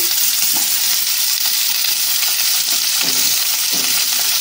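Flat beans and onion frying in a pan, a dense, loud, steady sizzle close up with faint stirring movements underneath, no voices.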